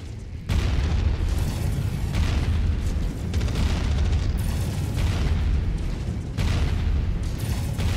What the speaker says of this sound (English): Big explosions and only 8 damage.